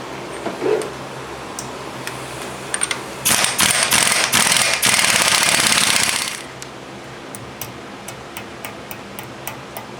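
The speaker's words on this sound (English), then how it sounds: "we'll put the nut back on, and we'll tighten that down with the impact." An impact wrench tightens the front axle nut on a Toyota Tacoma SR5 4WD during a CV shaft repair, one loud rattling burst of about three seconds, followed by faint ticking in a quiet garage.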